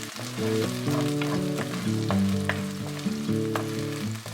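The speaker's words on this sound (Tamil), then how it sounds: "இப்போ வெங்காயம் நல்லா கொஞ்சம் பொன்னிறம் மாற வரைக்கும் வதக்கிக்கோங்க." Onions sizzling and frying in a pan for a dry fish curry, a steady close crackle with intermittent stirring knocks, no voices.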